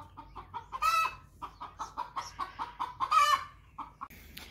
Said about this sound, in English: we were so rudely interrupted by the chickens